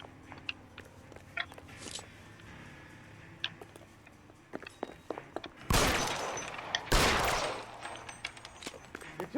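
Sparse clicks and pops of L.A. Noire gunfire, then two loud bursts of shots later on that sound close and heavy.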